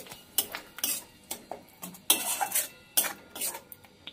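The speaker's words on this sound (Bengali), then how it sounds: "এবার ভালো করে সব কিছু দিয়ে কষিয়ে নেব" Spices, salt, turmeric and ground cumin-chilli paste are stirred with koi fish in a pan, a spoon clanking and scraping against the metal in irregular bursts, close and fairly loud, no voices.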